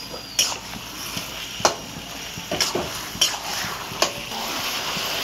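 Spices cook with a hilsa fish head in a pan, with a spoon scraping and clinking in irregular strokes over a steady, soft sizzle of frying close by.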